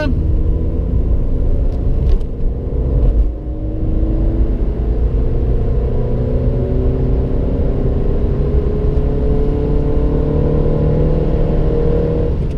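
A Citroen C2 VTR engine droning steadily under full-throttle acceleration in third gear from 50 km/h, revs climbing continuously, loud and close from inside the cabin.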